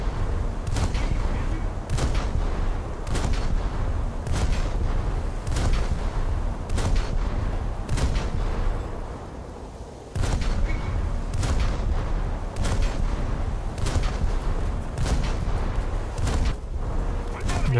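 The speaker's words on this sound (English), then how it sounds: "There's Akabono shooting me." Enemy destroyer Akebono fires naval guns in a warship game, heavy booming salvos landing at steady intervals of about a second, loud and punchy, with a brief lull midway and talk underneath.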